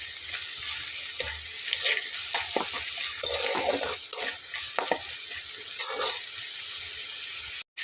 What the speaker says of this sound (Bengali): মশলাটা কিন্তু ভাজা ভাজা হয়ে গেছে